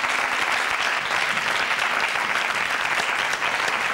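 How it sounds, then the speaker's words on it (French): Steady, dense studio audience applause on a French TV game show, Pyramide, sustained at an even level throughout with no speech over it. "Bravo, on peut l'applaudir."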